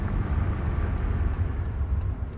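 A car engine roars steadily at high speed, around 130 km/h, in the Tourist Bus Simulator video game, a dense continuous drone with faint regular ticking on top.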